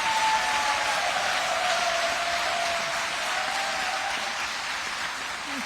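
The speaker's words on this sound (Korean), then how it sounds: "우리 또 그분을 위해서 박수 한번 보내주시기 바랍니다." A crowd at an outdoor rally claps steadily in sustained applause for a priest, forming a dense, even wash of hand claps with a faint tone lingering underneath.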